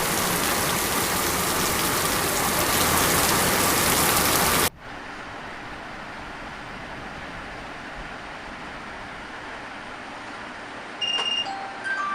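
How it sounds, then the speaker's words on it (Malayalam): Dense, loud rainfall hisses steadily, then drops to a softer, more distant patter of rain for the rest. "നല്ല മഴയാണല്ലോടാ"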